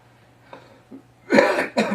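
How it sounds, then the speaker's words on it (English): A couple of short, close coughs after a quiet pause, the second a brief follow-up hack. "Excuse my coughing."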